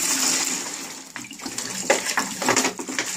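Liquid from bottles of expired Coca-Cola pours and gushes into a toilet bowl to flush it, a splashing watery rush that dips briefly then swells again in uneven surges, close and fairly loud with no talking.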